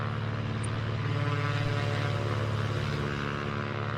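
A Cessna 182Q's propeller engine drones steadily from outside the aircraft in a flight simulator, a constant, loud, even hum with a pulsing buzz and no breaks.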